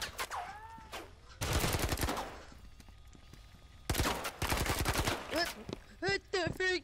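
Gunfire in Firewall Zero Hour: two loud bursts of rapid automatic shots, each lasting about a second, separated by quieter gaps, with voices talking before and after the shooting.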